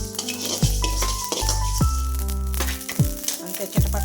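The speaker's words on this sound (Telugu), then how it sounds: "ఆవాలు మెంతులు కొంచెం జీలకర్ర కొంచెం దోరగా వేసుకోవాలి" Mustard, fenugreek and cumin seeds sizzle and crackle as they roast in a hot pan, a continuous frying hiss with occasional rattles, while low background music plays underneath.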